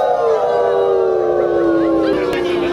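A dog at a wildlife safari stage show lets out one long, loud, sustained howl whose pitch slides slowly downward, close and continuous for nearly three seconds.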